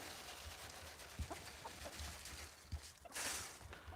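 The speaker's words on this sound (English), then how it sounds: "they're ex-battery rescue hens" Soft, low clucking from ex-battery rescue hens on an allotment, scattered and intermittent, heard faintly against a breezy outdoor background.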